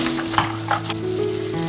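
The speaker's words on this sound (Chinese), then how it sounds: "小火炒出香味以后，加鸡丁进来， 加核桃仁进来，" Diced chicken and walnut pieces stir-fry in a wok over low heat for a sweet bean sauce dish, making a continuous close sizzle with a couple of brief stirring clatters.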